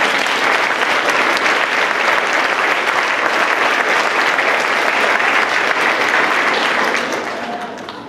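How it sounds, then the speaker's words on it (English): Parents and guests in an elementary school celebration applaud fifth grade students, a loud, even roar of clapping filling the room for about seven seconds before tapering off. "Let's give them another big round of applause"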